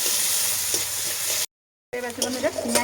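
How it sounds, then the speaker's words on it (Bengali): Chopped onion and two dried red chillies fry in oil with a close, crackling sizzle. A spatula stirs and scrapes through it, the sound cuts out briefly, then returns with sharper clatter. "এই পেঁয়াজটা আমি একটু ভালোভাবে ভেজে নেব।"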